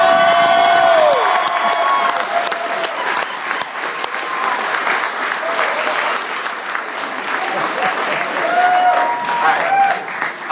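Loud, sustained audience applause and cheering at a regional team training event, with whoops and shouted voices rising above steady clapping throughout.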